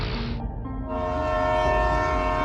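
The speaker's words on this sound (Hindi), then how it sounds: "अरे ये कौन सी ट्रेन है" Cartoon train pulling into a railway station, a loud sustained horn blast over a steady rumbling train, close and continuous.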